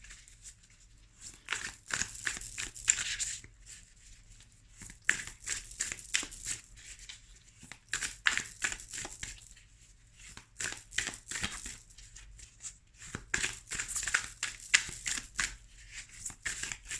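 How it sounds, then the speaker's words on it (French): Oracle des Reflets cards shuffled and drawn by hand, a papery crinkling and riffling that comes in several bursts with short quiet gaps between them. The sound is close and soft, and no one speaks. "Je vais tirer une autre carte avec l'oracle des reflets."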